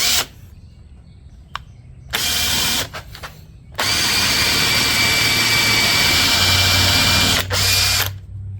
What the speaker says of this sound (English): I think I'm going to use a Forstner bit because it's easier to control when you go through the other side.